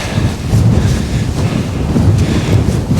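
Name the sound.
strong wind on a mountain, about 30 mph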